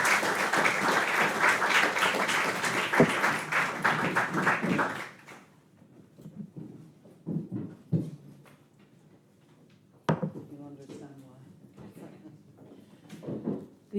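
Audience applause fills a conference hall at a WTO evening lecture on climate change, loud and steady for about five seconds before fading into scattered claps, shuffling and small knocks.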